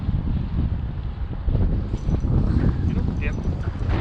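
Cold wind buffeting a microphone on a fishing boat out on the water, a steady low roar with gusty swells that rises toward the end.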